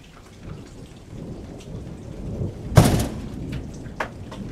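Steady rain on a stormy night with a sharp, loud thunderclap near the middle and a fainter crack later, no voices.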